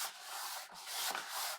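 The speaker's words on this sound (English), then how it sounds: "go ahead and burnish that down" A tool is rubbed firmly back and forth over a scored line in paper, a close, dry scraping swish in a few continuous strokes with brief pauses between them.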